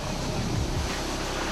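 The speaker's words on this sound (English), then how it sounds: "It's carnage as wave after wave smashes in." Heavy ocean surf at Bronte beach, waves crashing and churning in a continuous rough roar with a deeper rumble of breaking swell, heard from the shore without talk.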